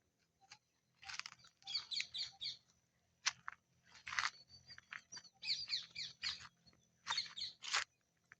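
Parrots calling over village paddy fields in Sri Lanka in the evening, bursts of shrill, rapid chattering calls repeating in clusters against a quiet background.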